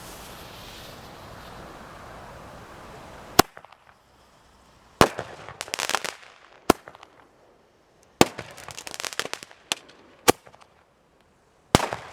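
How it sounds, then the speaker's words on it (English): A homemade grenade-launcher firework shell fired on Guy Fawkes Day detonates outdoors, followed by a string of sharp, loud firecracker bangs and crackling bursts over several seconds, with wind noise in the background beforehand. "After my previous tests, this should line up perfectly, and it should detonate directly above the tower."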